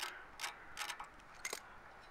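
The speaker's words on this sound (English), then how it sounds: "we'll just pull this little cover off. It has two little 8mm bolts that hold it on there" Small metal clicks and ratcheting taps come from removing a pair of 8mm bolts on the cover of a Chinese-made gasoline generator, several short faint bursts close up with quiet pauses between.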